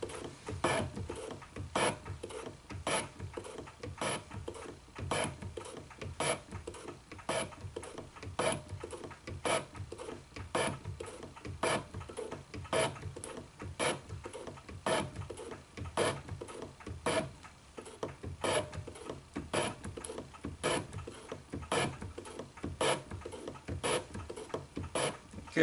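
A shop-built hand metal shaper cutting a dovetail in steel gives off a steady series of regular ticking strokes, evenly spaced and fairly quiet, with a faint scraping texture between them.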